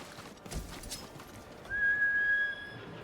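Rhythmic clip-clop of horse hooves in the video game Ghost of Tsushima, followed by a sustained high tonal whistle-like sound over the hoofbeats.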